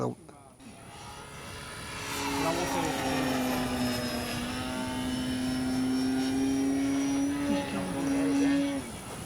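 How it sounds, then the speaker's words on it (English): An FMS Ranger 1800mm RC propeller airplane drones steadily overhead, its wheel pants giving a buzzing, rattling vibration over a sustained engine tone that shifts slightly in pitch. "the vibration you hear of the wheel skirt or the pants"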